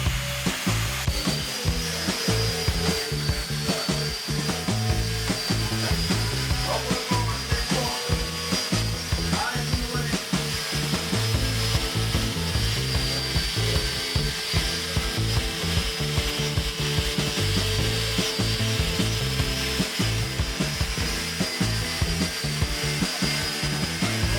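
Power tool with a 3M Clean & Strip disc and wire wheel stripping a surface: a loud continuous whirring grind with rough, scratchy texture, steady from start to end, no voices.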